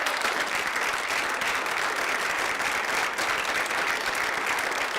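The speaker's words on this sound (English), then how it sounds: "Those who believe no, please applaud" A town hall audience at a televised discussion on gay marriage breaks into dense, sustained applause, a continuous wash of many hands clapping at steady loudness for the whole stretch, with no talk over it.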